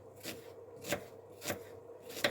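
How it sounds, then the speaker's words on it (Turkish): Four sharp knife chops on a cutting board while cutting ingredients for lamb sac kavurma, evenly spaced about half a second apart, close by with a quiet room between strikes. "Hemencecik en hızlısından bunları da doğrayalım"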